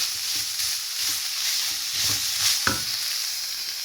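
Minced meat with black pepper, nutmeg and salt being stirred in a pan, a soft even sizzle with a few gentle scraping turns, close and unhurried, no speech.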